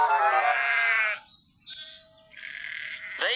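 Sheep bleat in a few separate calls on a cartoon railway, a long wavering bleat first, then shorter higher cries, close and clear with no talking.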